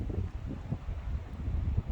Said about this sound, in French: Ouh, le vent, d'un coup là.